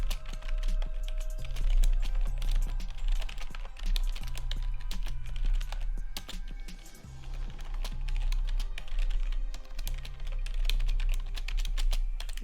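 Rapid typing on a computer keyboard, close and loud, with clustered keystroke bursts separated by short pauses over a low hum.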